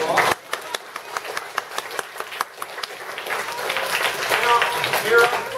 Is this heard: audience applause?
yes